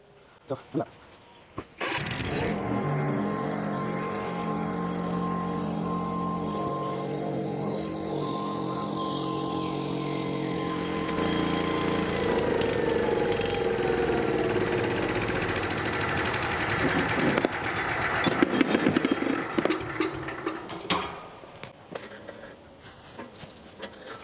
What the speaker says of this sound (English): I'm going to go ahead and fire up the welder